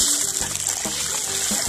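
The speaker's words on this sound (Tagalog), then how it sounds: "Siyempre, so natin ilagay yung ating tubig." Water poured into a cooking pan with onion and ginger for escabeche of stonefish, a steady close trickle and splash running throughout with faint background noise.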